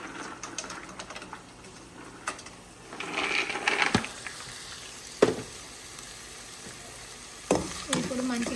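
Cashew nuts fry in a pan with a low, steady sizzle, stirred at intervals so a utensil scrapes and taps against the metal in short bursts.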